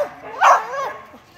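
A single sharp dog bark rises near the middle, close and fairly loud, amid faint vocal sounds.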